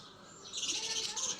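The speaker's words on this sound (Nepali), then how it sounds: "अब त मैले परेवा ल्याउनेवाला छु" Birds chirp briefly at close range where pigeons are kept, with a short burst of bright calls that swells halfway through and then holds steady.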